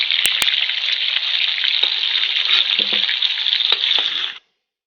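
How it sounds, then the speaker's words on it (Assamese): Pumpkin and potato frying together in a pan, a loud, steady close-up sizzle with a few clinks of a utensil near the start, cutting off abruptly at the end. "সেইকাৰণে কোমোৰা আৰু আলু একেলগে অলপ সময় ফ্ৰাই কৰি ল'ম।"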